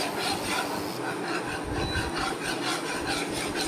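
Pasta being stirred in a pan with a little ghee, a continuous near scraping and rubbing of the spoon against the pan with sizzling underneath, steady and unbroken throughout.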